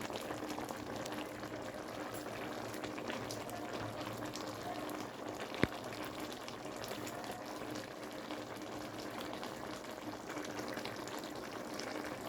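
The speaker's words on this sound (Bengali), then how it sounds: "তরকারিটা ফুটতেছে, টকবক টকবক করে ফুটতেছে।" A pot of bean, eggplant, potato and dried fish curry boils steadily on the stove, a dense, even bubbling that holds close and constant throughout, with one brief sharp knock partway through.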